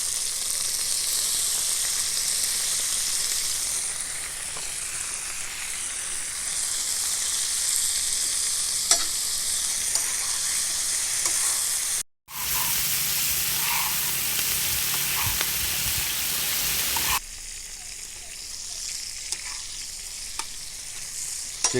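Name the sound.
chicken frying on a tawa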